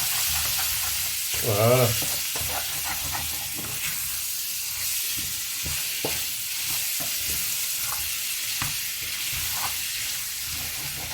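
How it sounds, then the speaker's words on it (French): A spoon stirs and scrapes spices frying in a pot for a veal tajine with apricots, giving a steady close sizzle broken by soft scraping knocks; a brief voice speaks early on. "Avec votre cuillère, vous raclez."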